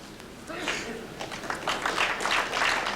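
Spectators at a professional pool match between Efren Reyes and Earl Strickland break into moderate clapping that grows and swells, with commentators talking over it.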